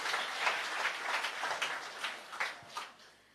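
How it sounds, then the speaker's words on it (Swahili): Applause for children from a church audience, a faint, diffuse clatter of many hands with a few louder bursts, fading toward the end with no voices over it. "Pigieni watoto wetu makofi."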